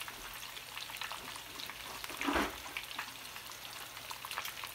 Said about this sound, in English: And our cutlets are frying nicely.